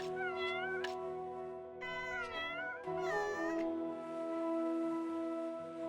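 Cats in the Black Desert Online game meow repeatedly in short, rising and falling cries over steady background music.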